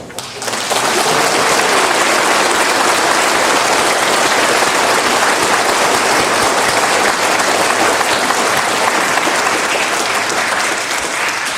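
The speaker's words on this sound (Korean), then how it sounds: "서로를 격려하고 위로하면서 서로에게 또 자신에게 큰 박수 한번" A church congregation at a Christmas night Mass breaks into loud, sustained applause, an even roar of clapping that holds for about eleven seconds.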